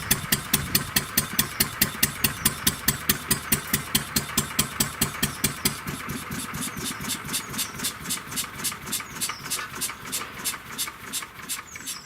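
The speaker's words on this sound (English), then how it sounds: "after I turn off this other stationary engine." A stationary engine runs on its own with a steady, loud chugging beat of sharp, regular firing pulses. The beat softens and grows slightly uneven toward the end.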